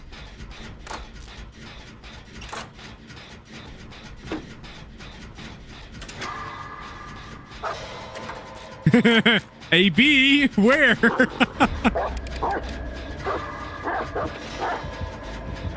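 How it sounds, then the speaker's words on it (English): A dog barking and yipping in quick, loud bursts that cluster near the middle, with people talking over it and game noises in the background. "Can you get your dog being loud and obnoxious again?"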